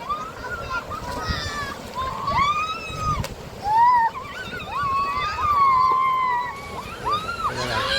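Children swim and splash in a river swollen by recent flooding, with water sloshing near and far and kids' shouts and calls rising throughout the splashing.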